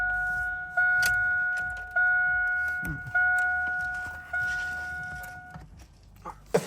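Chevrolet Silverado ignition with a key being turned, bringing on a steady two-tone electronic chime that cuts out and restarts several times in short, regular bursts before stopping, with faint handling noises around it.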